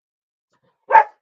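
A single short, sharp bark from a dog reacting to the mailman's arrival, heard close and alone against otherwise total silence.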